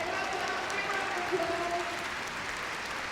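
Crowd applause at the Crufts 2016 Kennel Club Novice Cup agility final, a steady wash of clapping from a large indoor audience, running evenly under a commentator's voice.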